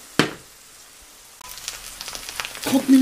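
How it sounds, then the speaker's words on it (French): Spinach hitting hot olive oil in a pan for a Tunisian Jewish pkaïla: a sharp burst of sizzle, a quiet pause, then frying crackle that builds and grows louder toward the end. "ça doit vraiment bien frire"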